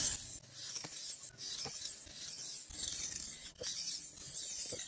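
Single-bevel Japanese yanagiba knife sharpened on a stone, close, faint rhythmic rasping strokes with brief pauses between passes.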